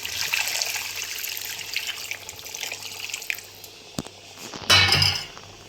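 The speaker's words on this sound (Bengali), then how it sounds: "গরম জলটা দিয়ে দিচ্ছি।" Hot water poured into a pan of fried taro, potato and ground cumin for a Bengali taro and bhetki fish curry, a steady close splashing stream with a brief louder gush near the end.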